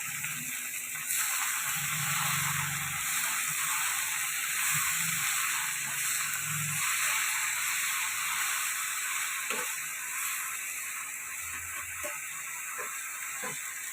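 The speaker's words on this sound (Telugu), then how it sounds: "ఇప్పుడు ఇది కలుపుకుంటూ ఫ్రై చేసుకోవాలండి" Gongura (sorrel) leaves fry in a pan with a steady hiss and sizzle, broken by soft scraping and clunks as they are stirred, with no talk.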